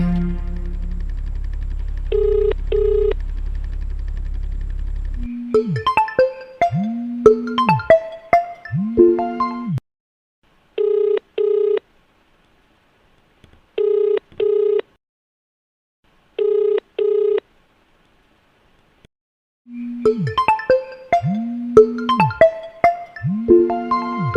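A telephone call is dialed and rings out: a sustained dial tone, then bursts of keypad tones, repeated electronic ring pulses separated by short silences, and more dialing tones, all loud and close with no talking.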